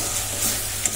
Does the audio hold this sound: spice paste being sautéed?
yes